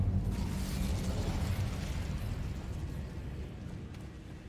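An Incendio fire spell cast in Hogwarts Legacy gives a loud, continuous whooshing burst of flame with a heavy low roar that slowly tapers off over a few seconds.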